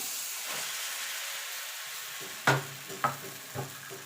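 Chitoi pitha rice batter ladled into a hot kadai over a low gas flame gives a soft, steady hiss, broken near the end by three sharp clinks of the ladle against the pan.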